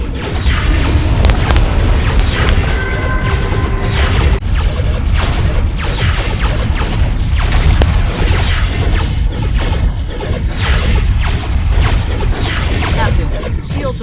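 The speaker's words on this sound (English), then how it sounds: "Commencing automated firing sequence." Automated weapons fire in a space video game: a dense, continuous barrage of booming, crashing blasts and bursts, loud and sustained throughout with sharp impacts layered over a heavy low rumble.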